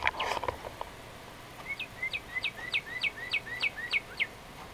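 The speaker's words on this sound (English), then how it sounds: "That was a cardinal." Northern cardinal singing outdoors, a series of about eight clear, evenly spaced whistled notes repeating steadily at moderate distance, following a brief rustle at the start.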